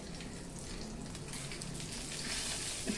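Bay leaves, a piece of cinnamon and asafoetida spluttering in hot tempering oil for jeera rice, a steady close frying sizzle with fine crackles that stays constant throughout, no voices.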